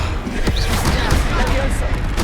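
A Confringo blasting spell cast in Hogwarts Legacy, a brief loud burst of magical explosion and crackle mixed with dense game effects and a spoken voice.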